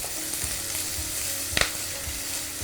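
Shallots fry in a pan with chilies for a chayote stir-fry, giving a steady sizzle while a spoon stirs them, with one sharp clack of the utensil partway through.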